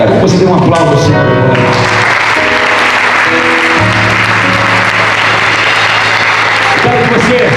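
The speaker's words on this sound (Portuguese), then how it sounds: "Quero que você dê um aplauso ao Senhor." A church congregation at a men's service applauds loudly and continuously, a dense wash of clapping with music and voices mixed in throughout.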